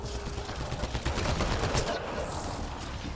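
Rapid sustained gunfire in the sci-fi shooter Mass Effect Andromeda on Habitat 7, dense overlapping bursts and shots continuing loudly throughout amid battle noise.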